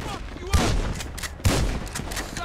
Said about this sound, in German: wie viele Schüsse habe ich denn daneben geballert?